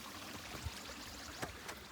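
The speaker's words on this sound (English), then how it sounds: "The water is flowing and it's making a nice sound through the rocks." A stream flowing over rocks near Bedse Buddhist Caves in Kamshet, Pune, giving a faint, steady, soft rushing wash with a few small splashes.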